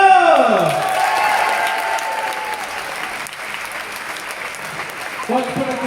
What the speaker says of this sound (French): Applaudissez Vanessa!